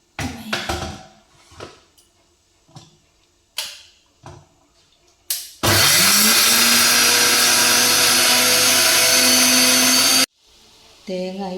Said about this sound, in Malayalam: തേങ്ങ ഇപ്പം വറുത്ത് പൊടിച്ച് വെച്ച് ഇനി നല്ല പേസ്റ്റ് ആവണം. കുറച്ച് വെള്ളവും കൂട്ടി അരക്കുക.